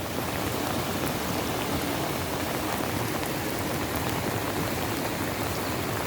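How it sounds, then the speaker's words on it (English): Heavy rain pours down in a dense, continuous hiss that stays steady and loud the whole time, with no voices heard. "it's bucketing down."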